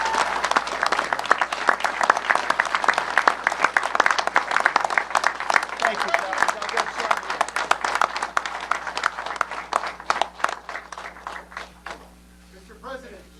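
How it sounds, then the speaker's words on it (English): A crowd claps in sustained, loud applause that gradually thins out and fades near the end, with a voice faintly underneath. "give these people a big round of applause"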